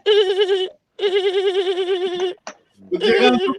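A human voice imitates a crying horse with long wavering whinny-like wails, two sustained quivering cries followed by a short gasp and a rougher, broken final wail, close and loud.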